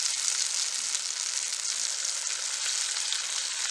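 Corn vadai fry in hot oil with a steady, bright sizzle, even and unbroken, fairly quiet and close.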